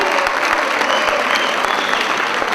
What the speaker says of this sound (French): Applaudissez encore une fois plus.